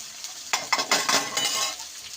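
Onions and chilli being stirred in hot oil in a pan, with a utensil scraping and clinking against the metal through a steady sizzle; the strokes come in a few close bursts with no talking.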